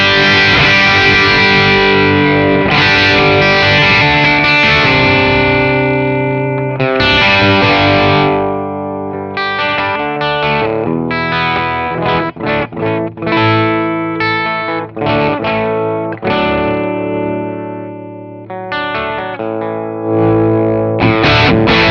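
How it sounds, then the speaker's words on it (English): A Les Paul electric guitar played through an HOD Klon KTR overdrive pedal rings out loud and close, strummed chords and riffs with driven, gritty tone, sustained notes and brief pauses between phrases. "you've heard what this sounds like, a Les Paul"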